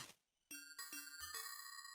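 Cartoon bell sound effect from a children's animated show: after a brief quiet start, a series of bright metallic bell strikes ring out with sustained, shimmering tones that overlap and linger, loud and close, with no voices.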